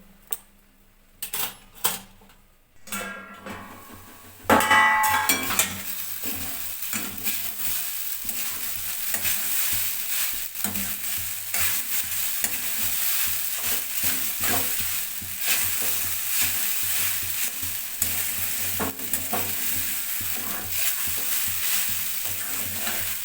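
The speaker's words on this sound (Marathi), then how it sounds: "मस्त अशी फ्राय करून घेतली आपण" Sago khichdi frying in a pan while being stirred, a steady close sizzle with repeated scraping clicks of the spoon against the pan, starting after a few sparse knocks and running continuously to the end.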